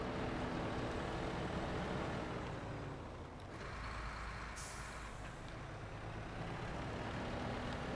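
Heavy truck engine in the off-road driving game Snowrunner, a loud, steady low rumble that runs the whole time with a brief dip midway and a short hissing burst like an air brake.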